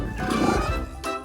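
A gorilla roars in a children's alphabet song, a loud, rough animal roar lasting about a second, with a brief break before a second burst.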